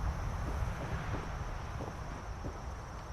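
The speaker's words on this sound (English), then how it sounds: "Wow, it is windy up here." Wind gusting steadily across a high outdoor spot in the Fallout 4 video game, a continuous low rushing roar that stays loud and broad throughout without pauses.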